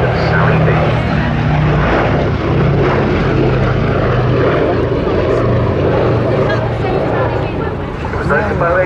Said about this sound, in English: The only airworthy Boeing B-17 Flying Fortress in Europe